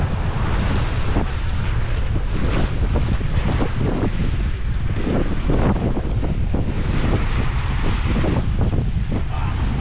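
Rough sea churns and surges under strong wind, with heavy wind buffeting on the microphone and steady loud roaring surf that never lets up, with no voices.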